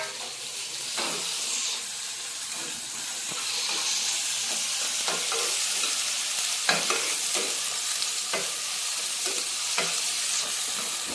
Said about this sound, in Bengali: এটা মিশে দেবো মশলাটা।